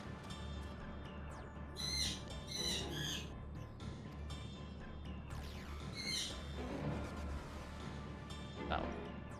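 Repeated squawking bird cries in Final Fantasy XIV, several sharp calls spread across the stretch, heard under and between people chatting over voice chat.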